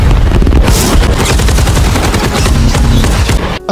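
Rapid machine gunfire from a fighter jet air strike in an action film, a loud continuous rattling burst of shots that runs almost the whole time before cutting off abruptly near the end.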